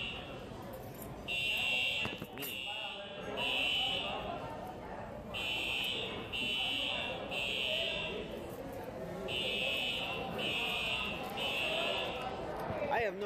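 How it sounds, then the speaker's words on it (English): A fire alarm buzzes in loud repeated bursts with short gaps, sounding throughout under a continuous noisy room background. "The fire alarm's going."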